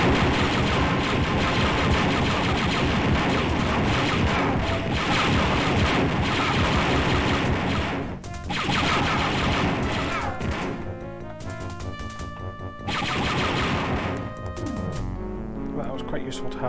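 Dense rapid gunshots ricochet off a supercharged shield in a Build engine video game, a near-continuous loud clatter of impacts with brief gaps, game music tones showing in the quieter closing seconds.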